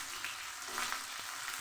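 Chopped onion and dried red chili sizzle steadily in hot oil for a bottle-gourd-greens mash, a dense close crackle with a few small pops and no voices.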